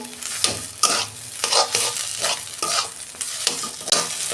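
A mash of cauliflower and shrimp is stir-fried dry in a pan, with a steady sizzle under repeated scraping strokes of a spatula, close and fairly loud.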